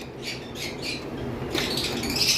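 A lovebird, a good mutation of the species, gives a burst of short, close, harsh squawks, several in quick succession, followed by a louder, rasping call with faint background noise.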